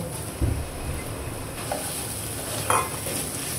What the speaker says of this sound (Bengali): তেলের ভিতরে পেঁয়াজ আর মরিচটা একটু ভেজে তার ভিতরে চিকেন দিয়ে দেব